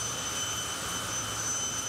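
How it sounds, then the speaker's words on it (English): A jet funny car dragster's jet engine drones at a steady, loud hiss with a high whine running through it, continuous and unbroken for the short stretch. "This is the world's fastest jet funny car."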